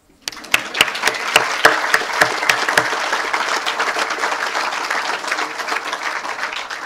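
At a groundbreaking ceremony for a marine sciences center at Duke Marine Lab, an audience breaks into applause: a few sharp, loud claps ring out first, then a broad, steady wash of clapping from many hands carries on.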